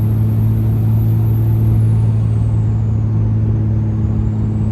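Second-generation Cummins diesel truck fitted with a BorgWarner SXE362 turbo, towing a trailer under load: a loud, steady low engine drone with a high turbo whistle that bends slightly, continuous and alone.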